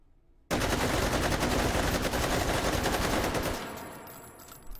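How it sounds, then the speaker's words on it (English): Two rifles chambered in 7.62x39, an AK and a VZ, fire side by side in loud sustained full-auto bursts for several seconds before one stops and the shots trail off, leaving a fading echo. "you probably heard this AK fire for a little bit longer"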